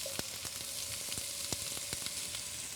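Potatoes, carrots and onions frying in oil in a pan, a steady close sizzle broken by sharp crackles and pops every fraction of a second, with no talking.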